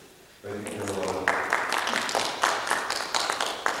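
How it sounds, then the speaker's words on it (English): An audience at a food bank event breaks into applause, a dense crackle of many hands that swells quickly and holds steady for several seconds, with a voice talking briefly underneath. "How about a round of applause for this young lady?"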